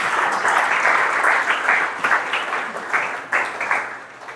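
A church congregation clapping together, a loud, dense burst of applause that gradually thins and fades.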